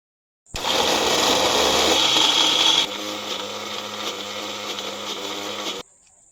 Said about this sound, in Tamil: Mixie on.